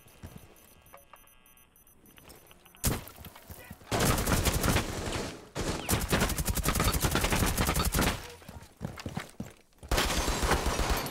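Rapid pistol gunshots in the Rainbow Six: Siege video game, loud bursts of fire in clusters following a quieter opening, with brief gaps between volleys.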